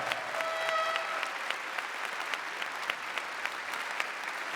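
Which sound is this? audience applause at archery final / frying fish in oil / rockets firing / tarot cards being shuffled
audience applause at archery final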